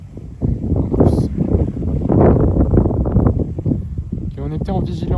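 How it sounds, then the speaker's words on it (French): A strong gust of wind sweeps through during stormy weather under a yellow thunderstorm alert. It sounds as a loud, continuous low rumble buffeting the microphone for about five seconds. "Il y a une bonne rafale de vent là."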